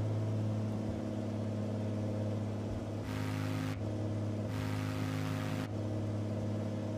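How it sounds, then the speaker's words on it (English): Cirrus SR22 piston engine run-up in Microsoft Flight Simulator 2020, a steady droning hum that holds at raised RPM with a couple of brief shifts in pitch. "let's bring our throttle up and get ourselves a run-up. Let's get our RPMs up to a reasonable amount here."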